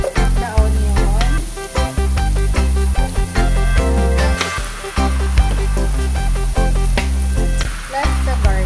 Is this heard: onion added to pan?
yes